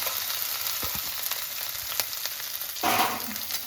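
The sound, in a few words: chopped ginger and green chilies frying in oil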